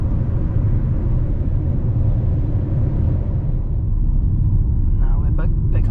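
MG ZS Excite hatchback accelerating under part throttle with a gear change, a steady loud cabin drone of engine and road rumble heard from inside the car.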